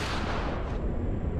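A heavy gunshot from a powerful single-reload gun in The Last of Us, one loud booming blast with a long rumbling tail that fills the whole moment.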